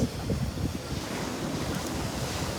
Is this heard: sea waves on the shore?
yes